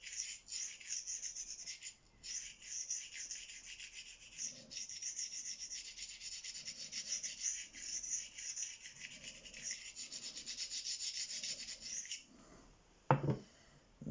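A Ka-Bar Dozier knife blade is hand sharpened on Venev stones, with continuous close rasping strokes in a steady back-and-forth rhythm, a brief pause near the start and a single knock near the end.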